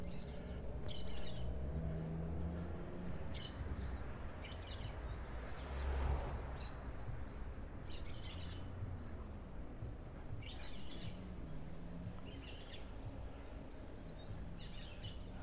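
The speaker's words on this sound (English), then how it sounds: "You can hear lots of birds here." Scattered bird chirps and tweets repeat through the clip over a steady low rumble of distant city traffic among high-rises in Cochabamba, Bolivia, with a car passing briefly midway.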